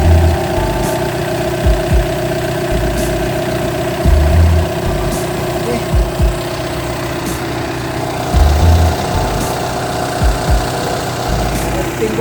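An Audi A6 engine idling smoothly and steadily up close, a constant low hum with periodic low thumps, while someone talks over it.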